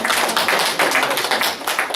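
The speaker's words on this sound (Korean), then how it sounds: "우리 환영의 박수 미리 환영의 박수" A church congregation claps in welcome, giving a brisk burst of many hands applauding together, loud and dense for a couple of seconds.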